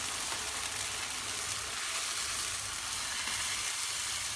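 Chicken cooking in a hot pan hisses and sizzles steadily after water is poured in, a close, even, crackling fry with no voices.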